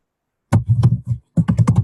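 Quick bursts of typing on a computer keyboard, close and crisp, keys clattering in two short runs separated by a brief pause, no voices.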